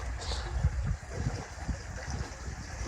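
Water flowing into a pond at a crucian carp fishing spot, a soft continuous rushing with a few low gurgling pulses, close by and otherwise steady.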